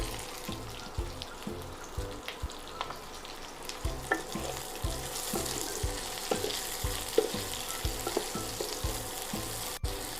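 Chopped onion frying with shahi jeera, bay leaf and whole spices for shahi paneer, a steady close sizzle broken by regular scraping stirs of a spoon in the pan, with no voices.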